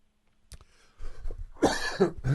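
A sharp cough breaks out in a studio, followed by a run of harsher, louder coughs close to the microphone.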